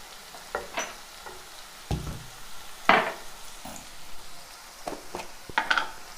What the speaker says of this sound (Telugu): ఇలా వేయించుకోవాలి అన్నీ